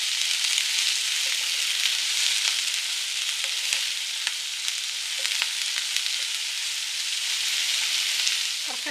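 Sliced onion fries on full heat in a pan, giving a constant bright sizzle with scattered crackles and pops, steady and fairly close, with occasional stirring.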